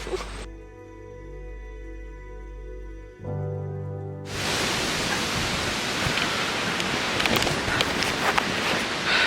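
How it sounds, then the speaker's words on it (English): Outdoors at an off-grid house building site, a steady tone gives way to a loud, continuous wash of wind and rain, a broad hiss that roars close to the microphone. "Today is wind and rain."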